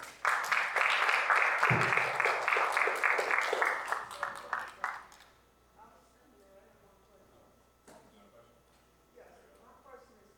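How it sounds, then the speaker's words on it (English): Audience applause at a city meeting, dense clapping for about five seconds that fades out, followed by quieter room sounds and scattered speech. "Let's give them a round of applause."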